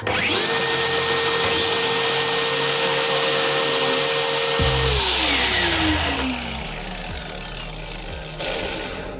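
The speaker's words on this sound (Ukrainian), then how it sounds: "Я одинаково виключу болгарки, і ми будемо бачити, де швидше зупиниться диск" A cordless DeWalt DCG418 54-volt angle grinder whines at high speed, then is switched off and its disc spins down with a falling whir that gradually fades.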